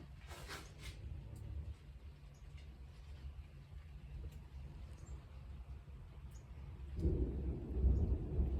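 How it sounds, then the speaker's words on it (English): Storm outdoors with steady rain noise and deep rolling thunder, a louder low rumble building near the end; no talking. "I'm filming during a storm"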